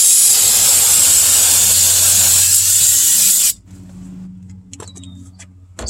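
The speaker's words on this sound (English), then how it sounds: "Spraying it down with some brake fluid." A loud, close hiss of aerosol brake fluid sprayed onto the brake caliper parts of a 2011 Chevy Impala, lasting a few seconds, then cutting off to quiet clinks and light handling noises.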